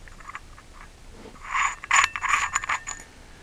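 A porcelain inline light socket is unscrewed and opened by hand: a quiet pause, then a brief cluster of close scraping, clicking and gritty ceramic-on-metal rubbing lasting about a second and a half.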